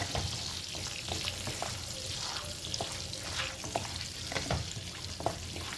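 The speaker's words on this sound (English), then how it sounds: "once you're done with a little bit of frying of the cinnamon bay leaf" Cinnamon and bay leaf sizzle and crackle in hot oil for paneer butter masala, with occasional stirring scrapes, close and steady throughout.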